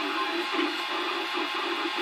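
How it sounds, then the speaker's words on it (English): Cubify Cube 3D printer running a print with its head moving, a steady mechanical whir and hum with a faint pulsing stepper-motor rhythm, heard alone and close. "if you look at the focus, this printer head is moving."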